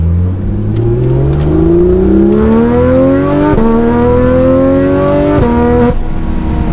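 A Porsche 911 GT3 RS engine and exhaust rev hard and loud up through the range, climbing steadily with two brief gear-change dips, close and alone with no talk.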